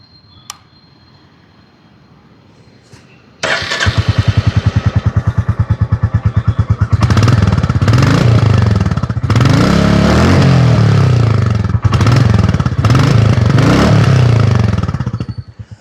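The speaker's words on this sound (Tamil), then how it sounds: "இந்த Royal Enfield classic 350யோட exhaust note எப்படி இருக்குது அப்படின்னு இப்போ நம்ம பார்க்கலாம்" A Royal Enfield Classic 350 motorcycle fires up after a quiet pause, settling into a loud, close thumping idle, then revs repeatedly with rising and falling exhaust blips before cutting off.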